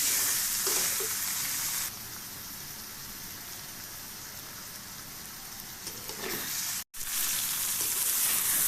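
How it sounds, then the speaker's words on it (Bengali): Spices fry in oil with cubed potatoes and pointed gourd in a pan, a steady close sizzle with a brief stir, a quieter stretch, then the loud crackle returns after a short cut. "এখন মশলাগুলো অ্যাড করবো এবং ভেজে নেব"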